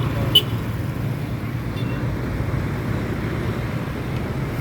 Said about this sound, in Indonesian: Satu unit lagi ada bus yang baru datang dari